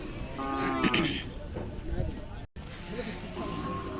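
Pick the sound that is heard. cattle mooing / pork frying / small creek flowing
cattle mooing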